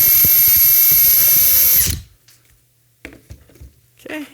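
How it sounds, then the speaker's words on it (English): A power drill bores a hole in wood with a loud, close, high whine for about two seconds, then cuts off, leaving only faint knocks and handling sounds. "I'll do that second hole in on the wood."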